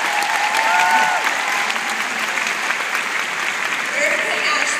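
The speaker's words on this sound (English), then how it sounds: "They deserve a huge round of applause." A seminar audience gives sustained, dense applause that stays even and full for about five seconds, with faint voices mixed in.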